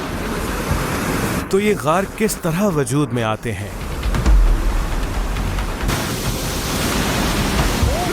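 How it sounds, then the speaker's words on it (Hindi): Roaring rush of sea waves surging through the Rosh HaNikra sea caves in Israel, a loud continuous wash of water with someone speaking over it partway through. "यहाँ पानी की आवाज़ से खौफ आता है"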